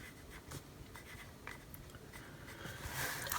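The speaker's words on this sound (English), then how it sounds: "So what I'm going to do is pencil in all of the stuff that I know off the top of my head." Pencil scratching across the pages of a notebook, a steady run of close, soft strokes that grows slightly louder near the end, with no talk.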